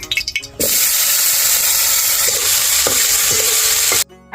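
Ingredients sizzle loudly in a hot kadai, a sudden, steady hiss of frying that starts after a few soft knocks, with occasional stirring clinks, then cuts out abruptly.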